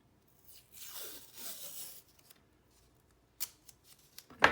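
Scissors snip through thick yarn at a crafting table, one long drawn-out cut followed by a few short, sharp snips near the end, quiet and close with no talking.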